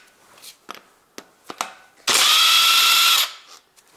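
Power tool spinning out a bolt on a Toyota 1.8 2ZZ-GE VVTL-i engine during camshaft removal, a single loud whirring burst of about a second after a few light clicks of handling.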